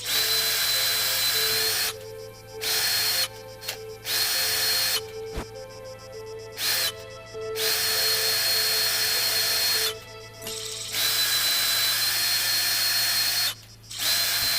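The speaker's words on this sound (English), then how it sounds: "I much prefer a screwdriver, if I'm honest." Electric screwdriver driving a screw in the VR game Wanderer: repeated loud whirring bursts, some brief and others held for a second or more, separated by short pauses over a steady low hum.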